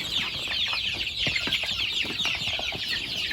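A flock of nearly 200 domestic chickens clucks at feeding time, a busy chorus of short overlapping clucks heard close and continuous against a steady background hum.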